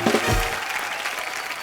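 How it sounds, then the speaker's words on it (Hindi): Studio audience on a TV comedy show bursts into loud, dense applause welcoming two singers, a steady wash of clapping that holds strong through the brief moment with no talk over it. "जोरदार तालियों से स्वागत"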